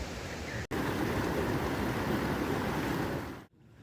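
Steady broadband rush of river water flowing on a mountain trek route near Gondaar village, loud and continuous, with a brief gap near the start and a cutoff just before the end.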